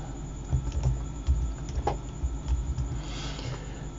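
Keys on a computer keyboard clatter in short bursts of taps, close and moderately quiet over a faint steady background hum.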